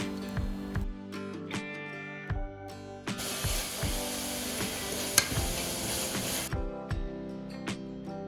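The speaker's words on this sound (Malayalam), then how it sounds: "ഇതൊന്ന് ക്രഷ് ചെയ്തിട്ട് ഉള്ളിയിലേക്ക് ഇട്ട് കൊടുക്കാം." Crushed ginger, garlic and hot green chillies go into a pan of frying onions, with a loud sustained sizzle swelling midway over repeated close stirring scrapes and clinks of a spoon against the pan.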